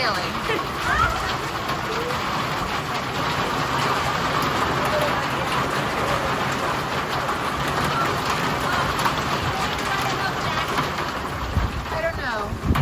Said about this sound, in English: It's hailing pretty hard.